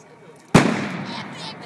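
A firework shell bursts low in the air with a single sharp, loud bang at close range, followed by a broad crackling decay that fades slowly over about a second.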